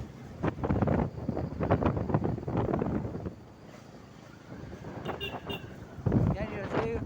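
A motorbike heads up a mountain road with steady engine drone and strong wind buffeting across the microphone. Someone talks over the riding noise.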